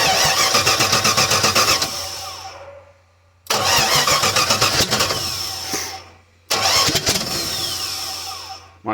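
A 1959 Chevrolet Biscayne is started three times on a cold winter day, each attempt bringing a loud cranking engine catch and rough, revving run that dies back toward silence before the next try.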